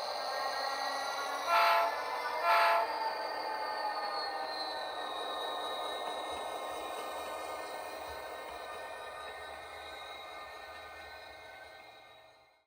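A model train on a DCC-EX layout running along the main line, with a sustained tonal hum and two short horn blasts near the start, then a steady run that fades out at the end.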